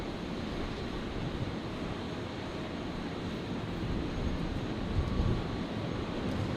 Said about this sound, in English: So Air Canada 36 cleared for departure, cleared for immediate departure.